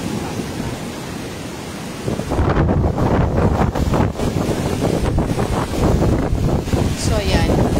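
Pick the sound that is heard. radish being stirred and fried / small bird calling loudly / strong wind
strong wind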